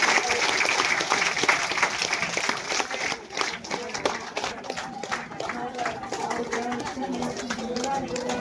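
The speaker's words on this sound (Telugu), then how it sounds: "అందరు గట్టిగా చప్పట్లు కొట్టండి." Applause at a Sita Rama wedding ceremony in a village Rama temple, sustained clapping from a crowd with pigeons cooing nearby and a voice speaking over it.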